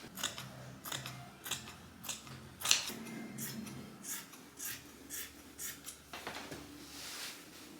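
Scissors snip through fabric while pattern pieces are cut for a sewing project, a series of quiet crisp cuts at an irregular rhythm, close and alone.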